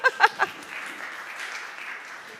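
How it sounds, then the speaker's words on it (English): An audience gives a few loud claps at a lighting-control training session, then the applause fades into a softer, scattered patter. "A round of applause."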